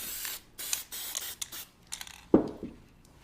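A spray can fires short bursts of paint onto a styrofoam faux cake, several quick hissing sprays close by, each followed by a brief pause and then a sharper final burst.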